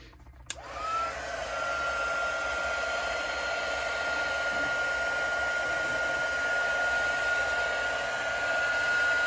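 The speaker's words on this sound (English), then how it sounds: "I'm going to hit it with the heat gun really quickly." A heat gun blows over epoxy resin during ice resin ink swirl work, starting with a click and a rising whine that settles into a loud, steady airy roar with a constant high tone, close and uninterrupted.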